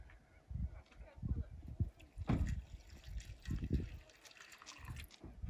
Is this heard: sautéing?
no